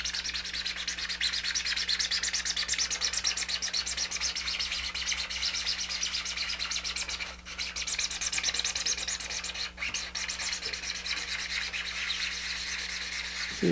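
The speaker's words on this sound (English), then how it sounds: "You'll just sand it lightly. You can hear it, kind of a whistle type sound." Steady, continuous rubbing of 220 grit sandpaper across a 3D printed part for an Apogee Nebula ST model rocket kit, close and even with a faint whistling edge, plus a couple of brief pauses and light chirps in the background.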